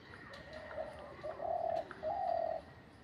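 A decoy dove or pigeon calls from a tree, a few soft cooing notes with the last two longer, fairly close over faint background hiss and no talk.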